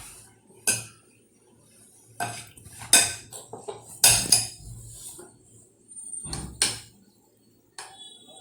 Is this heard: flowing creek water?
no